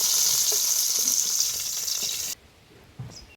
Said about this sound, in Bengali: ঢ্যাঁড়সটা পারফেক্ট করে ভেজে নিয়েছি, এবার নামিয়ে নিব।